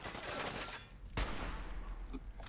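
Rapid bursts of gunfire in Fallout 4 crackle in a quick volley, with a sharp loud shot in the middle and more popping afterward.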